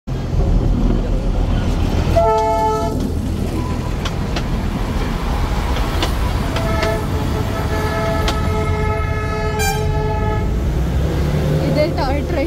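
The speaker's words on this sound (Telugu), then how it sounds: "ఇదే టాయ్ ట్రైన్." A Darjeeling toy train on the Siliguri–Darjeeling line runs past with a steady mechanical rumble, sounding a series of loud horn toots through the middle and again near the end, while voices talk over the din.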